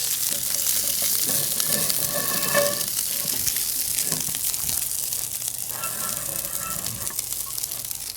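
Asparagus dressed with olive oil and salt sizzles steadily on a hot grill, a continuous close crackle with faint scraping stirs partway through, no talking.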